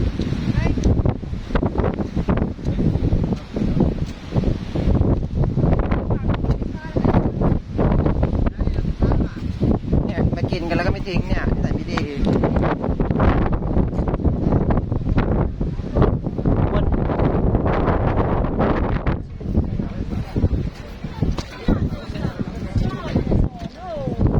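Strong wind blows at the sea on Mykonos in September, a constant loud roaring buffet across the microphone with surf and rustling mixed in, while people talk now and then.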